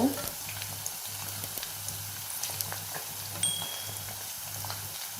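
A steady, crackling sizzle of breadcrumb-coated chicken frying slowly in hot oil over low heat runs throughout, with a low constant hum underneath and no voices.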